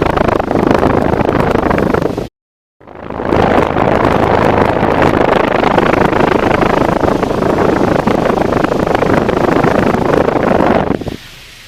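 An old Victor Junior electric fan runs with a steady, loud whirring drone, broken by a brief total silence early on, then continuing evenly until it cuts off near the end.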